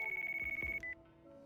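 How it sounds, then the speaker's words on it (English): A telephone rings in the Yakuza video game, a steady electronic trill repeating in quick regular pulses for about a second before cutting off, fairly quiet and without speech. "Oh, phone call."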